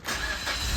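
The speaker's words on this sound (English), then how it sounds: "We'll start it up, let the engine warm up, and we can drop that oil out." A 2014 Mazda 2 DE facelift series 2, unstarted for about a month, turns over and fires up, a close, steady mid-pitched engine noise swelling briefly with no talk.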